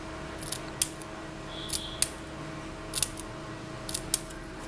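Scissors cutting fringes into paper for a flower, heard as crisp, close snips that come in quick pairs at a steady rhythm over a quiet background.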